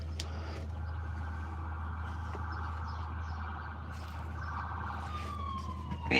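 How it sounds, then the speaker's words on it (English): An ambulance siren wails in the distance over a steady low rumble, its tone holding and then sliding downward near the end as it moves past. "Ambulance."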